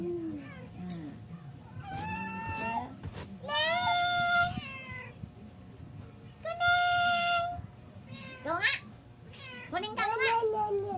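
A house cat meows repeatedly, loud and close, in drawn-out rising and falling calls, some strained like caterwauls, with a person talking between the cries.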